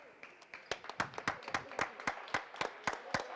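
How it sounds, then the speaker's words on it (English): At a junior college men's basketball game, spectators in a gym clap for a player checking in, a sparse, fairly quiet run of individual hand claps in an irregular rhythm. "Round of applause for that man right there, Octavius Jones."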